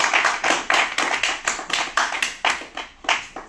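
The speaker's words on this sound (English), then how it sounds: "So we'll give her a round of applause to start off." Audience applause before a mathematics talk at a college conference, a small group clapping in distinct, uneven bursts, fairly close and clear with no talk.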